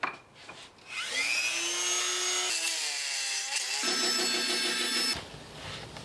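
A handheld Dremel rotary tool whines steadily as it cuts through part of a tripod top, its pitch rising as it spins up and shifting as the bit bites the workpiece, fairly close and without talk.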